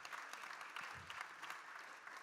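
Steady applause from a crowd at a Detroit Lions draft event, dense clapping holding at an even level throughout, with no voices rising above it.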